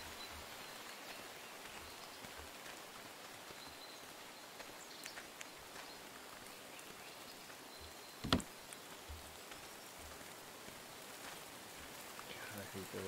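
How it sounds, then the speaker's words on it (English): Steady rain falls through woodland as a constant soft hiss with patters, close and even throughout, with one brief louder knock partway through. "God, I hate the rain so much."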